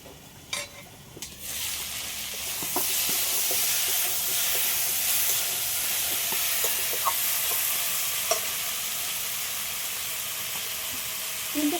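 Cut pumpkin, drumstick and potato sizzle in a pan after shrimp were lightly fried, a steady hissing fry with scattered stirring scrapes and pops, close and continuous.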